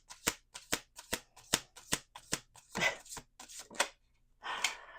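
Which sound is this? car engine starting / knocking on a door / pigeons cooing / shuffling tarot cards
shuffling tarot cards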